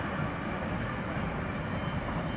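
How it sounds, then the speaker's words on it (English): A Great Western Railway high speed train rolls slowly through Didcot Parkway station on the Great Western Main Line, giving a dense, steady rumble and roar that fills the whole moment without a break. "And we also have a Great Western Railway high speed train coming through."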